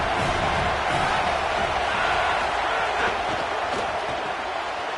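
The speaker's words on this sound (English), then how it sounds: "Now this home crowd making life difficult." Loud, steady home crowd roar filling a stadium at a football game, a dense wash of voices and cheering that runs unbroken for the whole stretch with small swells.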